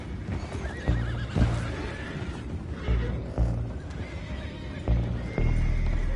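Horses whinny repeatedly while hooves clip-clop on hard ground in Red Dead Redemption II, loud and busy with overlapping neighs and a steady, uneven stomping rhythm.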